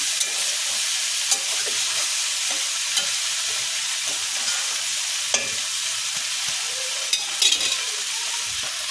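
Okra masala with turmeric sizzling in a pan as it is stirred, a steady close frying hiss with occasional scraping taps of the spoon against the pan.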